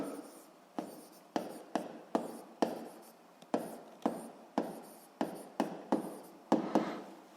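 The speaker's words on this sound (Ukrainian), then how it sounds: "так його і запишемо, пишемо закон Гука." Writing out Hooke's law equation, a series of crisp taps and short scratchy strokes of a pen or chalk in uneven rhythm, close and clear with no talk.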